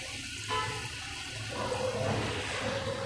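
Sour buttermilk is poured into a pot of cooking brinjal, giving a soft rushing liquid splash that swells after a quiet start and continues in low gurgling waves.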